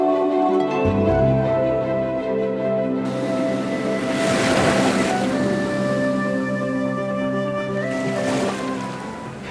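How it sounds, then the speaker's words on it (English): Mediterranean wind and waves: a steady broad wash of surf and breeze with swells of rushing water, loud and continuous, under a sustained musical drone, with no talking. "Can you hear the whisper of the Mediterranean wind?"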